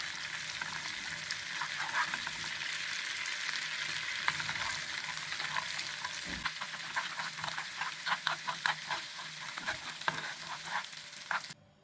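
Butter and red pepper flakes sizzle steadily in a pan, a dense crackling hiss with scattered sharp pops and spatters that keeps going for the full stretch, moderately close.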